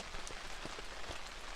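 Steady rain patters on a surface at a hammock camp in March, a dense continuous hiss with scattered closer drops tapping throughout.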